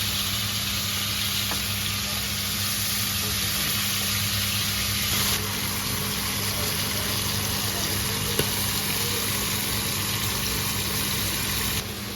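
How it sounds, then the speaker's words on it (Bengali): Steady, loud sizzling of meat frying in hot oil in a pot, a continuous hiss that runs unbroken from start to finish. "দেখতেছেন মাংসগুলো ভাজা হচ্ছে"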